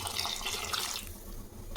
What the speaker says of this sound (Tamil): இப்போ நம்ம தண்ணி ஊற்றிக்கலாம்